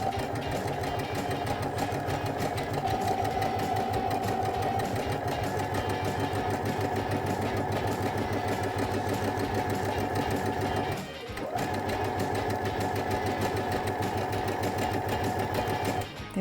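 A Baby Lock Brilliant sewing machine runs a second row of stitching in a fast, steady mechanical whir with a rapid needle rhythm, pausing briefly near the end before resuming, close and continuous.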